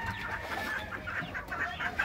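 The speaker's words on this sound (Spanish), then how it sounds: "Una gallina silky con sus pollitos." A silky hen with her chicks at a small farm gives soft, repeated clucks in short bursts, close by, over a light background hiss.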